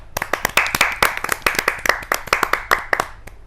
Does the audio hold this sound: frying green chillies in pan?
no